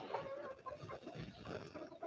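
Broody hens cluck and murmur close by in a short, continuous stretch of low, throaty calls with no talking.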